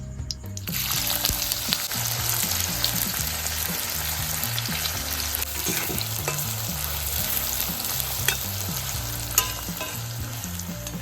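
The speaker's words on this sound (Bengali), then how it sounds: "রিফাইন তেল দিয়ে বেরেস্তাটা ভেজে নেব তেল গরম হয়ে গেছে এবার পেঁয়াজটা দিয়ে দেবো" Sliced onions sizzle steadily in hot refined oil for a Hyderabadi masala chicken, a dense, continuous crackle close up with no voices, an underlying low hum running throughout.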